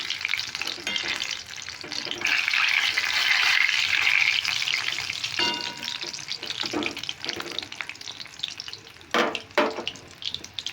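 Battered cauliflower fritters fry in hot oil, a loud dense sizzle that swells and eases, with a few light utensil knocks toward the end and no talking.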